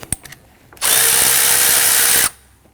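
A power tool spins a 10mm nut loose on the positive battery terminal of a 2013-2019 Ford Interceptor Utility, one loud sustained whir lasting about a second and a half, close up, after a few small clicks.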